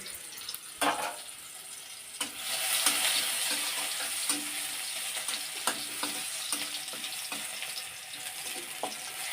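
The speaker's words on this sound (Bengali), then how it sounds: "এই যে রসুনটাও দিয়ে দিচ্ছি তেলের রেখে এবার একটু নাড়াচাড়া করে নিয়ে" Garlic sizzles steadily in hot oil for several seconds, with a louder burst as it goes in and repeated scraping knocks of a spoon stirring it around the pan.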